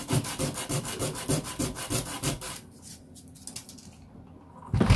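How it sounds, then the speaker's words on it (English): Plastic Commodore VIC-20 PET keyboard parts sanded by hand, a rapid rhythmic series of scratchy strokes for a few seconds, a brief pause with faint scuffs, then one more burst. "So that's them sanded down, that's all we need to do."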